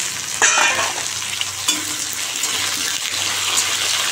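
Potato and cauliflower curry frying in a pan, a steady sizzle close up with a few sharper scrapes and clacks from stirring.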